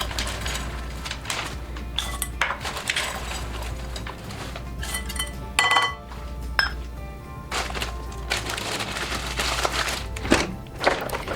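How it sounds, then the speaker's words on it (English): Frozen sweet corn is poured into an Instant Pot, a clatter of small hard kernels tumbling in with scattered thunks and clinks against the pot over several seconds. "Next up, I'm adding a cup of frozen sweet corn."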